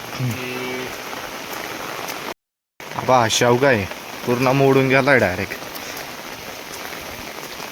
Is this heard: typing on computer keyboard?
no